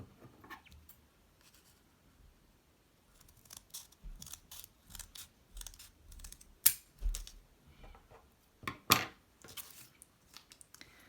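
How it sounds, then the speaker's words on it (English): Scissors snip along the edge of folded paper to cut a pentagon for an origami star. The close, quiet clicks and crisp cuts come in short irregular bursts with pauses and rustling between them, and no voice is heard. "cut along the edge here"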